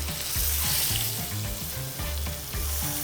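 Beef searing in a hot pan, with a steady loud sizzle and a repeating pulsing rhythm throughout, close and without any voices.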